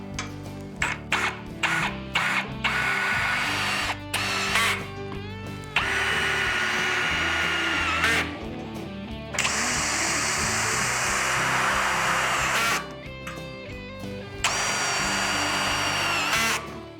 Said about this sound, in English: we're going to use these self-tapping screws that were included with the kit.